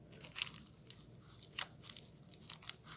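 Old crackers crunched in a few sharp bites near 0.4 and 1.6 seconds, then chewed with softer crackly crunches, close up and with no talk, eaten alongside a Korean instant cold noodle taste test.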